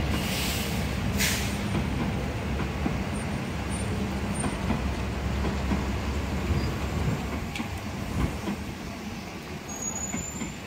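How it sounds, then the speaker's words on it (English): A steady low rumble of a train rolling past nearby, constant and fairly loud throughout, with faint squeaks and hisses on top. "There's a train here."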